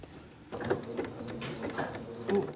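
Sewing machine stitching a fabric scrunchie, a soft, rapid mechanical chatter that starts after a brief quiet moment and runs in uneven bursts, close and fairly faint.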